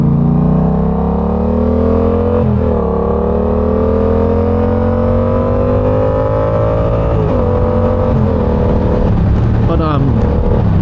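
A Yamaha R7 motorcycle with a quick shifter rides along with its exhaust roaring loud and close, pitch climbing steadily through the gears with brief dips at each shift and a constant rush of wind underneath.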